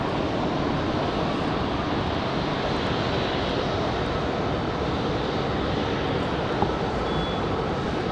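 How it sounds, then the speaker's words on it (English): A Republic Airways jet taking off from Raleigh-Durham International Airport, a loud steady broadband engine roar that fills the whole stretch evenly, with no voices. "That last departure, Republic Airways 4496 off to Pittsburgh"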